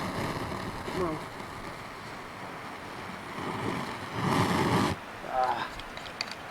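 Gusty wind buffets the microphone outdoors, a low rumbling roar that swells in bursts, loudest near the end, while someone talks intermittently over it.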